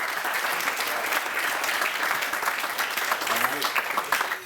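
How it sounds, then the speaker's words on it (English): Wedding guests applaud steadily throughout, a dense, close wash of clapping at a wedding celebration with some voices mixed in beneath the claps. "I'd like to give a round of applause to Joel and Jess."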